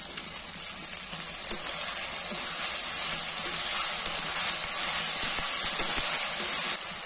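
Ginger paste hitting hot oil in a pan for village-style fig and prawn curry: a steady, loud hissing sizzle that holds throughout without pause, no talking.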